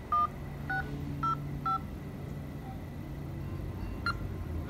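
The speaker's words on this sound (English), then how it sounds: "I'm about to cold call this guy. I got his phone number." A phone number punched in on a telephone keypad, four short touch-tone beeps at a steady rhythm followed by one more after a pause, clear over a low steady hum.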